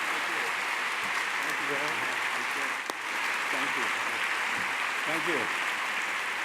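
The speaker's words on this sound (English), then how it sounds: "let's give a warm round of applause and a warm welcome to our dear friend" Audience applause at the 2018 Anisfield-Wolf Book Awards welcoming a guest, a sustained, even clapping from a full room, with a brief spoken word near the middle.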